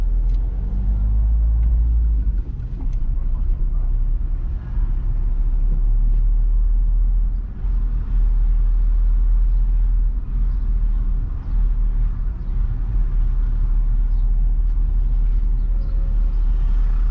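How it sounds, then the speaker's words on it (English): Number 1 city bus driving through Benidorm, away from the beach area toward the old town, a steady low engine rumble and road noise heard from inside, continuous and fairly loud with no talk. "One bus is taking us away from the beach area now."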